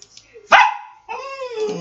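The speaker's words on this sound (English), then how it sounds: "my dog won't shut up" A dog gives one sharp, close bark followed by a drawn-out whining yelp, loud against an otherwise quiet room.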